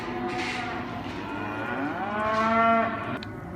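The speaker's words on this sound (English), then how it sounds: "Sort of yearling and older cattle." Yearling and older cattle at a livestock market give one long, loud, close moo that rises and then falls away, with a low murmur of the market behind it.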